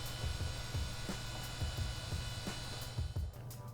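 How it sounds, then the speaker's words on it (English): An old Socket 7 PC runs steadily, its fan and noisy Maxtor hard drive spinning with a constant low hum and faint repeated ticking clicks, close and continuous with no talk. "You just hear the noise of the hard drive spinning. That's quite a noisy drive."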